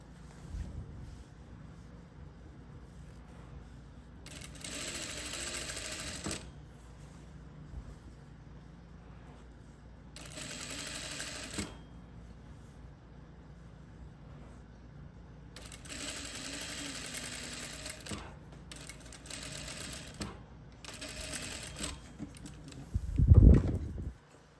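A sewing machine stitching fabric in several separate bursts of whirring, each lasting one to two seconds, with quiet gaps between where the cloth is repositioned, ending with a louder handling knock.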